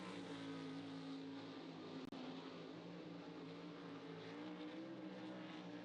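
A Racesaver 305 sprint car in single-car qualifying at Santa Maria Speedway, a steady distant engine drone holding constant with one sharp click partway through and no voices.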